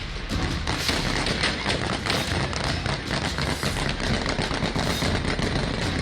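A dense, continuous barrage of loud sharp cracks and bangs of gunfire at Kabul airport, with no pauses throughout.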